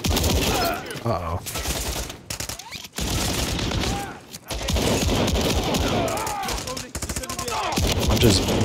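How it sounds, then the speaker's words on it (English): Gunfire from the video game Modern Warfare III, dense fusillades of rapid automatic shots and bursts with short gaps, loud and close, mixed with faint game voices. "I'm just blindly firing."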